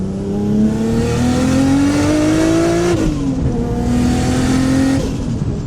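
A Nissan R32 GT-R with an RB26 engine revs loudly while driving, its pitch climbing steadily through one gear, dipping at a shift and rising again in the next, heard up close.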